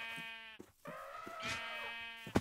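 A sheep in the Minecraft video game gives a couple of wavering, nasal bleats, close and clear, separated by a short gap with soft background sound.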